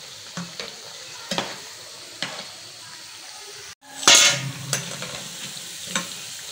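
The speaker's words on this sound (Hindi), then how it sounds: "यहाँ पे दूसरा बैच भी सेकंड टाइम फ्राई हो चुका है" Potato snacks sizzle gently in hot oil over a medium flame during their second fry, with intermittent stirring scrapes and one louder clatter of utensils partway through.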